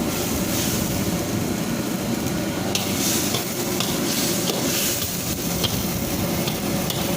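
A spoon stirs sweet and sour pork sauce thickened with cornstarch in a hot pan, with steady scraping and bubbling sizzle running continuously and loudly up close.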